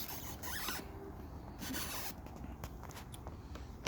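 Tape being pulled and wrapped around a lavender cutting during propagation: quiet crinkling and ripping sounds come in short bursts, close by, ending in a small tap.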